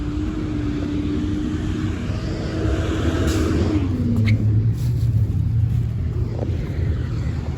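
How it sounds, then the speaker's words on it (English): A big truck rumbles past near a porch outdoors, a steady loud low engine drone with a falling pitch as it goes by, continuous for several seconds. "It's a big truck."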